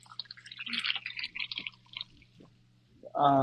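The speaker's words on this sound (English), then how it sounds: "And now I add the cream." Cream is poured into a pan that holds mustard and peppercorns, making soft, uneven dripping and splashing sounds for about three seconds. A voice cuts in briefly at the end.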